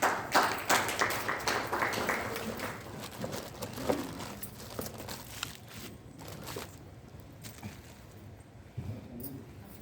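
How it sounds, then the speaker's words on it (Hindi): A crowd at a book launch and poetry reading claps in a loud burst of applause that gradually thins out into scattered claps, with no voices. "मैं उन्हें जोरदार तालियों से बुलाता हूँ"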